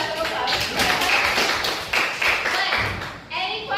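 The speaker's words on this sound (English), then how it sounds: "Give that a clap." A classroom of students claps together in a brisk burst of applause that rises, dips and picks up again over a few seconds, with voices mixed in.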